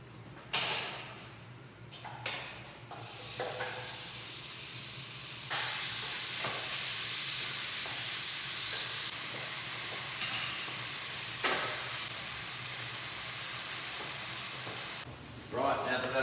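Noodles tipped into a pot of boiling water ahead of frying, giving a steady steamy hiss that swells and holds, with a few sharp clatters at the start and no talk.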